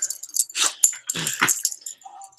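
A dog named Frisky Dog makes a series of raspy, breathy growl-like sounds and wheezy huffs close up, in uneven bursts with short pauses between them.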